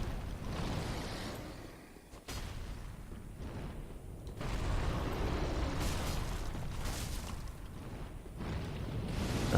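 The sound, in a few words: Archdragon fire breath attack in video game Dark Souls 3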